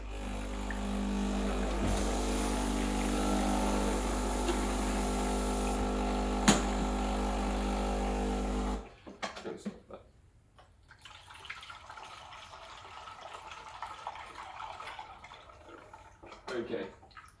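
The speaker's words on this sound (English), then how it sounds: "running a blank shot, so just hot water through the portafilter and into a cup, just to warm things up" A Breville Dual Boiler BES920 espresso machine runs a blank shot of hot water through the portafilter into a cup: a loud, steady pump drone with a low hum for about nine seconds, then it stops and quiet handling noises follow.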